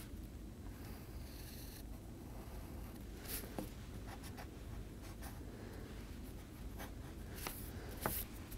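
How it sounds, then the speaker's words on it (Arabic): A pen or marker drawing a coffee cup on paper during an art lesson, giving steady scratchy strokes with brief pauses, close and fairly faint over a low background rumble. "وسوف نرسم فنجان للقهوة"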